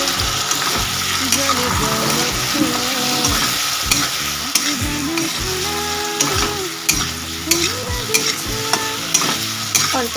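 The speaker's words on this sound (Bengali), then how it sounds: "রসুন আর লঙ্কা বাটাটা দিয়ে দেবো" Garlic and chili paste frying in a pan for a taro dish: continuous close sizzling with repeated spatula stirring and scraping throughout, alone without talk.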